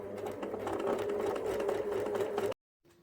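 A sewing machine runs steadily, stitching the side seam of a fabric bunny, a close, loud, continuous whir with a fast needle rhythm for about two and a half seconds, then stops abruptly into near silence.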